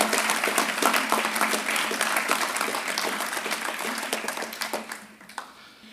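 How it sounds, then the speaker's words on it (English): A hall crowd claps warmly at a school graduation ceremony, a dense sustained applause that slowly thins into scattered individual claps and fades out near the end. "Big round of applause for all these people."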